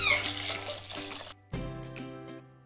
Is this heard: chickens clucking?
no